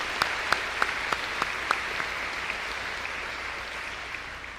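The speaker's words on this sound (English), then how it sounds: "How about a round of applause for our remarkable faculty?" Scattered applause for faculty at the Keystone College Class of 2023 commencement: a handful of sharp, distinct claps ring out over a hushed outdoor-sounding space, then thin out and fade.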